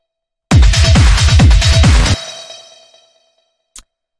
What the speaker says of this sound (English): this is made with some FM synthesis